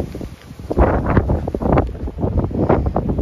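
Strong wind buffets the microphone in loud, rough gusts, a steady roaring rumble with no voices.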